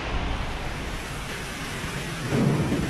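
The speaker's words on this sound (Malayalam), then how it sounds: "പുറത്ത് നല്ല ഗംഭീര മഴയാണ്." Heavy rain in Qatar, during a thunderstorm, pours down in a dense, continuous roar, swelling slightly louder near the end, with no voices.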